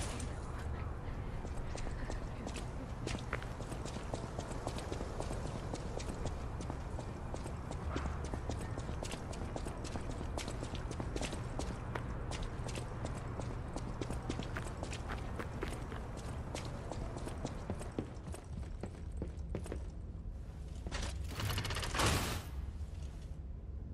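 A mad donkey's hooves clip-clop in a steady, rapid walking rhythm in the game Lies of P, faint and continuous, with clanking mechanical sounds near the end.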